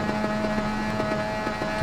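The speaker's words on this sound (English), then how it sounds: "Completely revving out." A motorcycle engine in the RIDE 4 racing game on Xbox Series X, at Daytona, holds near its rev limit as a steady, buzzing, high-pitched drone with faint regular stutters, loud and continuous.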